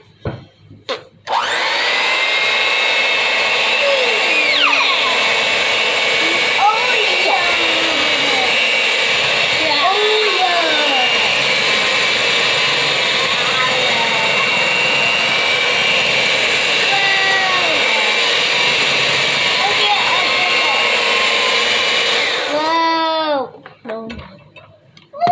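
An electric mixer whirs steadily and loud for about twenty seconds as it blends dry cookie ingredients, starting abruptly and cutting off near the end, with a voice and scattered speech sounding over the motor.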